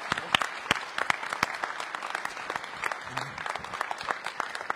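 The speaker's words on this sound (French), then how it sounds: "on peut applaudir cette belle jeunesse dans toute sa diversité" Audience applause at a mayor's New Year greetings ceremony for the municipality, steady dense clapping from a seated crowd filling the room, moderately loud and continuous with a few sharper close claps.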